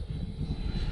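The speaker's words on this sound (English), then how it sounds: "And the Avanti flies so nice, man." An RC FW Avanti S model jet passes overhead with a steady, loud turbine roar and rushing whine that holds constant through the brief moment, with no voices.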